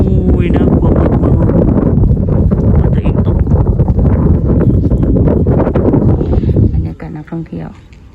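Strong outdoor wind buffets a handheld phone microphone near water, making a loud, continuous roaring rumble for about seven seconds before easing into fainter gusts, with a voice faintly present.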